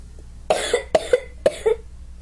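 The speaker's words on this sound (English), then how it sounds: "Oh man, stop coughing." Four harsh coughs from an elderly survivor character in Left 4 Dead, spaced in two quick pairs, close and loud against a low game background hum.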